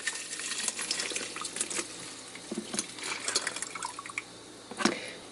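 Liquid poured from a container into a small bottle, a quiet close trickle with faint drips and light clinks, steady for several seconds.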